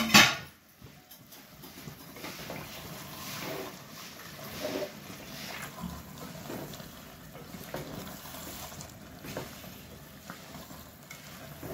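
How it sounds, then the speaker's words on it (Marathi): A pot lid comes off a pan of simmering chicken korma with a quick, sharp clink at the very start. Steady bubbling, sizzling and faint stirring follow, close by and with no talk. "झाकण काढून बघूया"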